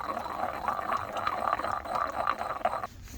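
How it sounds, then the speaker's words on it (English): Yogurt and lemon juice being mixed into a chicken shawarma marinade at a campsite make a wet, squelching stir in steady rhythmic strokes, close and moderately loud, stopping abruptly just before the end. "And I'll mix in the yogurt."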